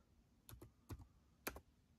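Key clicks on a Chromebook keyboard, heard as a few short bursts of two or three taps spaced about half a second apart, close and fairly quiet.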